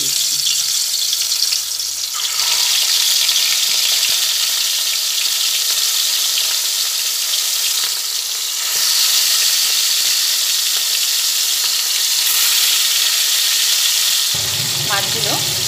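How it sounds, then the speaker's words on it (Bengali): Fish pieces frying in hot oil in a wok, a steady loud sizzle and crackle that runs on without a break, with brief lulls and a sharper burst near the end. "এবার তেলের মধ্যে এক এক করে মাছগুলো দিয়ে দিচ্ছি।"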